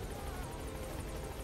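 Helicopter in the video game Metal Gear Solid V: The Phantom Pain, a steady, loud rotor and engine roar filling the clip with an even, continuous drone.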